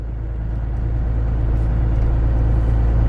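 An old first-generation Cummins diesel truck accelerates on snow, its low engine rumble building steadily and loud from close inside the cab, with no talking.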